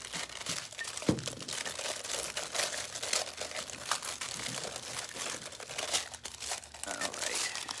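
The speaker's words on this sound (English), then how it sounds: "pulling my foil up carefully around it" Foil sheet pulled up and crinkled carefully around a cup during a crafting session, continuous close crackling and rustling with small sharper crunches, soft and steady throughout.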